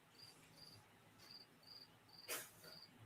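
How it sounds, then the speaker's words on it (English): Crickets chirp outdoors at night in short, regular pulsed bursts repeating about every half second, faint and steady, with one brief sharp noise near the end. "I definitely heard some crickets."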